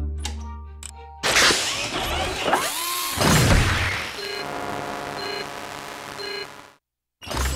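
Field Repair effect from the video game Monster Lab: a busy run of mechanical ratcheting and drill-like whirring with sweeping tones and repeated short electronic beeps, cutting briefly to silence near the end.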